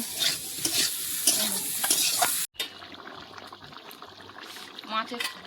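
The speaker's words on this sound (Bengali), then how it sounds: "মাছের ঝাল ফুটছে" Catla fish curry cooking in a pan over an outdoor fire in the sun, with stirring scrapes and sizzling bubbling, a brief cut partway, then a softer simmer with light liquid sounds.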